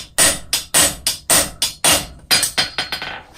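A blacksmith's hammer strikes hot metal being upset on an anvil, about a dozen sharp ringing blows in a steady rhythm, close and loud, the last few coming quicker and lighter.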